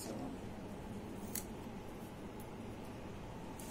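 Normal scissors snip paper in a few sharp, quick cuts standing out against a quiet steady room hiss, close to the microphone.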